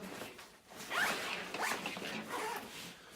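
A zipper is drawn closed along a carry-on travel backpack in two or three quick, raspy pulls, close and clear in a quiet room.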